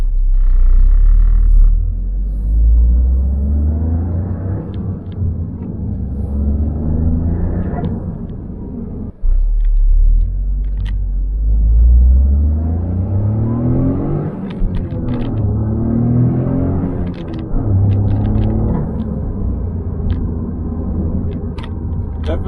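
A Toyota GR Corolla fitted with a short shifter is driven through its gears, its engine a low, steady rumble that rises and dips with each change, under occasional talk from the driver.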